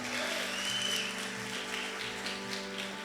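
A church congregation applauding during a sermon, a soft, even wash of clapping that continues evenly for a few seconds over sustained background music.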